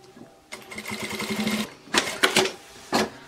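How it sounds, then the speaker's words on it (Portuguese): Sewing machine stitching a bag lining, a steady whirring run of about a second followed by several short, sharp bursts close by, with no voices. "Vou pegar aqui e vou costurar."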